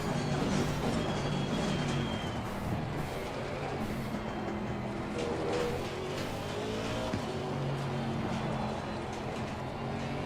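Race car in Assetto Corsa Competizione during practice at Oulton Park, its engine droning steadily and loudly throughout with a faint hint of tire noise and no talking.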